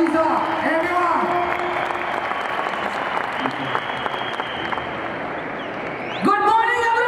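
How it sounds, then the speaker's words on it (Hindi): An audience applauds Jatindra Nayak at an award function, a sustained, even burst of clapping carried over a voice and background music, ending as a louder sound cuts in. "मैं चाहूंगा एक बार जोरदार तालियां mister Jatendra Nayak from Orissa."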